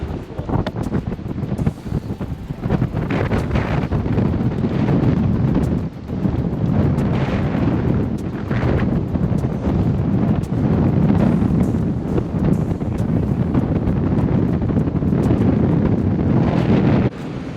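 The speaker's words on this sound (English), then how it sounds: "it's so windy you might not be able to hear" Strong gusty wind buffeting a boat riding at anchor, roaring and blasting across the microphone in a continuous loud rumble, with rushing water faintly beneath and no voices.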